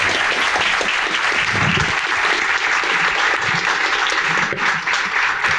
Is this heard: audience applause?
yes